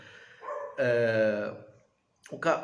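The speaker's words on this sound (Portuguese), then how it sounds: "Tem um cachorro latindo aqui" A dog barks a few times at mid distance, sharp yelps with a pause between, clearly audible on its own.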